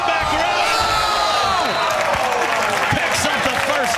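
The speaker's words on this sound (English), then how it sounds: "Look at that crowd. They're loving it." A large audience at a Madden 18 Madden Challenge Championship esports event cheers and applauds in a steady, dense roar, with a commentator talking over the crowd.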